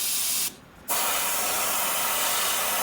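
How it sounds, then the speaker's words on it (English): An airbrush hisses steadily as it sprays paint onto a seven-inch glide bait in a crappie pattern, a loud continuous spray broken once by a short pause before resuming. "spray softly, kind of blend it down"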